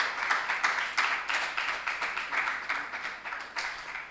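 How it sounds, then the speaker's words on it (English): An audience at a quarter-final business contest claps in a steady, rhythmic beat, a sustained burst of applause heard at moderate distance with no voices over it. "Ladies and gentlemen, please keep the clap coming"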